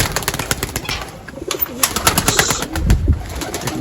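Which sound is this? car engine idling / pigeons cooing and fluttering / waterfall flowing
pigeons cooing and fluttering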